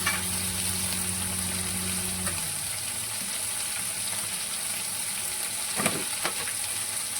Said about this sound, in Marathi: जिरं मस्त फुललं की आपला वाटलेला मसाला त्याच्यामध्ये ऍड करायचा आहे